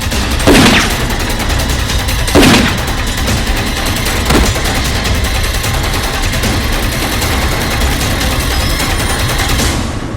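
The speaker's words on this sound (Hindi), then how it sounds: "पुलिस के साथ फायरिंग हो रही है।" Gunfire in a movie shootout with police, heavy continuous shooting with several louder blasts standing out above a dense, loud background of shots.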